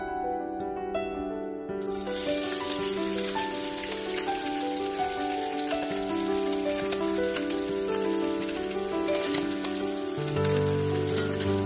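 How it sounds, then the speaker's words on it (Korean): Dried shredded squid sizzles steadily in four tablespoons of hot cooking oil in a heated pan, a continuous frying crackle throughout under background music. "달구어진 팬에 식용유 4큰술 넣고 기름이 끓으면 진미채를 넣어주세요."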